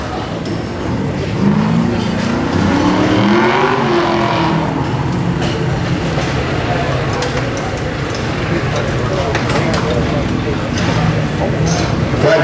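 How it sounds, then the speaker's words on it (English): An Oldsmobile fitted with a swapped engine is worked hard at an LS engine-swap event, its engine droning loudly and continuously with rising and falling revs, while people talk over the noise. "Koenig and Dustin and Trent and Justin are giving it a good thrash over here in the Oldsmobile"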